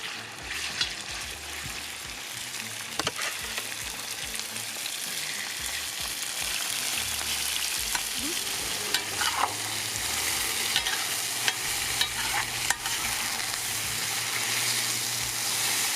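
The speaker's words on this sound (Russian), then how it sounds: "Мясо шикарно обжаривалось." Meat for lagman sizzles steadily in a hot pan, a close, continuous frying crackle with occasional stirring scrapes and clinks, with no talk throughout.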